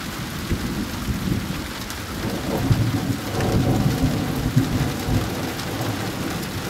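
Low thunder rumbles and rolls beneath steady heavy rain during a thunderstorm, swelling in the middle and fading again, with no one speaking.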